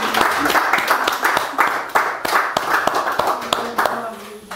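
Church congregation clapping in rhythm and acclaiming the Lord, loud close steady claps with voices calling out over them.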